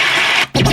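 DJ scratch sound effect played through a JBL Partybox 310 party speaker: a loud, dense burst of scratchy noise, a brief gap, then another scratch burst, all in under a second and with no talking.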